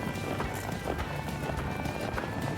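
A horse moving at a loping gait under bridle, with steady rhythmic hoofbeats beneath continuous broadband noise, close and fairly even throughout.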